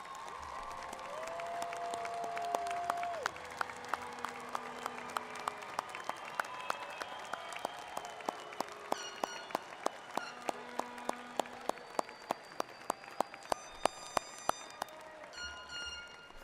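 Graduates at a university spring commencement give a sustained round of applause to their families and friends, a large crowd's dense clapping filling a big hall and swelling steadily over many seconds, with scattered sharper claps and faint cheers.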